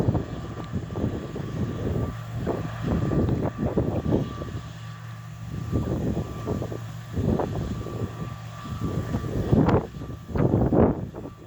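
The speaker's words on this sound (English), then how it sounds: "windy today, folks." Gusty wind blowing across a farm at harvest time, rushing and buffeting in uneven waves with a steady low rumble underneath.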